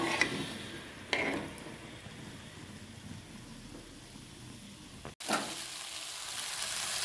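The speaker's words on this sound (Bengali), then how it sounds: "দেখুন সবজিগুলো হলুদ লবণ দিয়ে ভেজে নিচ্ছি।" Vegetables, including pumpkin, fry with turmeric and salt in a pan, making a quiet, steady sizzle with a few stirring scrapes and a louder burst of hissing after a brief gap.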